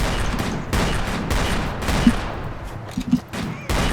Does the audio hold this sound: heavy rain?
no